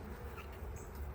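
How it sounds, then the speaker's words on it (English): Honeybees crawl from their brood cells on a frame from a backyard hive, making a close, steady buzzing hum with a few brief wingbeat whines rising above it. "These are bees freshly hatching out of their brood cell."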